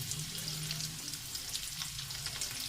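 Fish frying in oil over a low flame, a continuous even crackle and sizzle close by with no stirring or voices.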